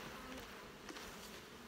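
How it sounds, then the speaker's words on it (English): Honey bees swarm over a full brood frame at an open hive colony, drawing out foundation, giving a dense, steady, close buzzing drone with no voices. "Tons of bees in this colony."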